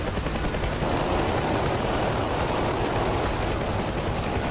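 Side door gunners on a UH-1H Huey helicopter fire in DCS World, a dense, continuous roar of automatic gunfire blending into a steady noisy wash for several seconds, loud and close with no clear gaps.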